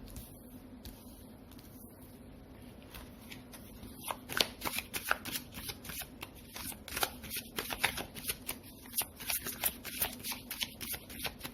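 Tarot cards are shuffled in a rapid series of crisp riffling flicks, close and fairly quiet, growing busier and denser after a few seconds over a faint steady hum.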